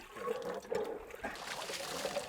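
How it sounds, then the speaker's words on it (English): Water splashing and trickling from a primed hand water pump at an old neighborhood well site in a Seoul alley, a close, continuous gush with faint voices nearby. "마중물을 넣고 펌프질하면"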